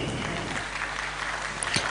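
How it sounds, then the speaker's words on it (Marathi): Audience applause at a Miss & Mrs Maharashtra beauty pageant: a steady, even patter of clapping hands that fills the room at moderate loudness throughout. "वाजवू शकता टाळ्या प्लीज"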